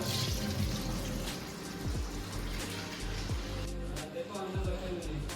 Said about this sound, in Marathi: मासे आणले होते ना जे ते आपण धुवून घ्यायचे व्यवस्थित एकदम पाण्यामध्ये सो आता धुवून घेऊया